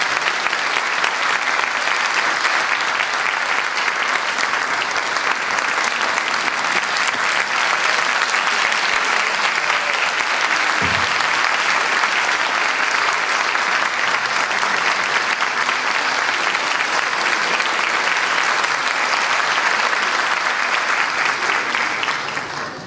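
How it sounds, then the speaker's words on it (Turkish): A concert audience applauds steadily as the conductor of a choir and ensemble performing Turkish classical fasıl music walks onto the stage. The clapping is dense and loud, with no break for its full length. "kuvvetli alkışlarınızla sahneye davet ediyorum"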